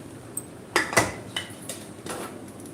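Chillies crushed in a stone mortar and pestle for thecha, heard as a few hard, irregular knocks and clinks close by.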